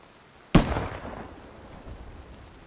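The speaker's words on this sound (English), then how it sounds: "Oh no, the vehicle exploded." A landmine blast destroys a vehicle in a military shooter game: one sudden loud boom that decays into a long rumbling tail, with no other sounds before it.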